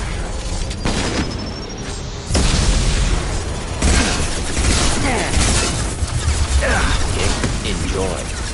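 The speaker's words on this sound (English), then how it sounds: "Impending explosion." Deep, loud booming blasts erupt in Mass Effect 2 gameplay, two heavy explosions rolling into sustained rumbling debris and crackle, with voices mixed in.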